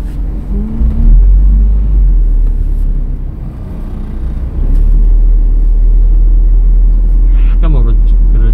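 A car speeds up during a driving lesson, its engine rumble rising and holding steady and loud, with an instructor's voice over the engine noise.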